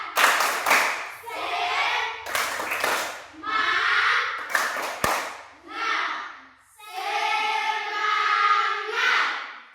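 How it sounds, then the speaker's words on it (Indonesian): Schoolchildren in a classroom perform a rhythmic group clapping routine, bursts of sharp claps alternating with chanted voices, loud and close, repeating in patterned sections. "Sekali lagi, tepuk semangat."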